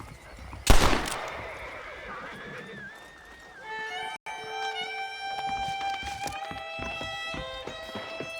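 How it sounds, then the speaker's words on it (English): Horses neigh in the Red Dead Redemption video game. A loud whinny near the start is followed by a ranch scene with music, hoof clops and background activity. No one speaks. "The horses are saddled up over here."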